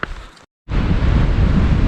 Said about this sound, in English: it's a bit windy up here, so I may have to caption this